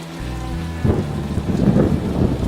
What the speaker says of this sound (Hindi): उस रात फिर तेज बारिश शुरू हुई।